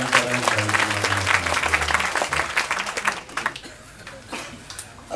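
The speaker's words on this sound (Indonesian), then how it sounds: "Tepuk tangan semua," An audience at an Islamic gathering with Cak Nun bursts into thick applause over a low humming tone. After about three seconds it thins out into scattered individual claps that fade away.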